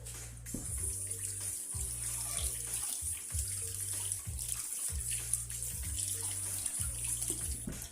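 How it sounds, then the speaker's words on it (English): Running tap water splashes steadily as hands are washed beneath it, a close, continuous rush with slight changes as the hands move, no talking. "let me just wash my hands"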